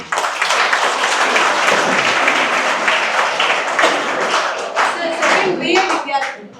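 An audience at a college lecture on a Kannada book claps loudly for several seconds, the many hands blending into a sustained wash of applause that thins slightly toward the end.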